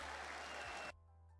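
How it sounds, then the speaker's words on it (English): A short burst of applause from a live forex trading stream, loud and dense for under a second, then cut off abruptly into near silence. "I'm going to give you a round of applause for that one."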